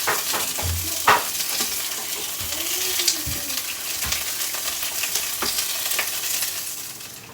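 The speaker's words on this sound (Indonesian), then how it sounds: "Kita gorenglah dulu ini" Bakso ingredients sizzle and fry in a pan with a steady crackle, with occasional clinks and stirring scrapes of a utensil against the pan.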